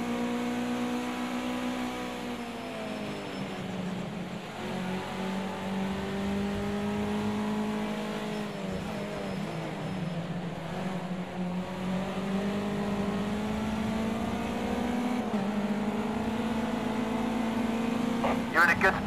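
Race car engines whine and rev through gear changes in Project Cars 2, rising and falling in pitch over a steady road roar while a voice talks over the engine noise.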